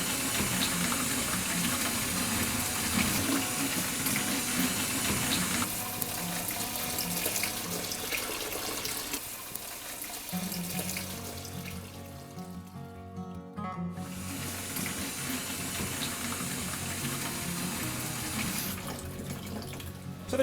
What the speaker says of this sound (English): So we're about to rinse it through a strainer.